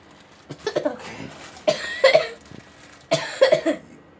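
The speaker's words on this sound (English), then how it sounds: "Don't cough over the spread" A person coughs in three separate bursts, each made of a few rough, harsh hacks, close and fairly loud, while a jail-style spread is being prepared.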